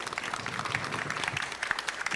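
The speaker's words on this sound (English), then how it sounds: "So give a big round of applause to our two panelists." A panel audience claps for two panelists in a short, brisk burst of applause, many hands at moderate volume in a steady patter.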